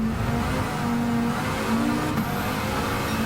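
A loud turbocharged car engine in Gran Turismo 7 drones and revs steadily, with a high turbo whine riding over it and a sharp whistle near the end.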